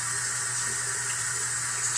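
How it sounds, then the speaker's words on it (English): Tap water running steadily into a sink while a makeup brush is rinsed under the stream with fingers, a continuous close splashing hiss alone. "Then I run that under the water, doing this with my fingers"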